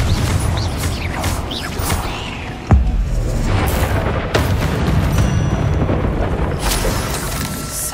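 Confringo spell explosions in the video game Hogwarts Legacy: loud booming blasts, one heavy impact followed by further bursts, over continuous rumbling combat noise.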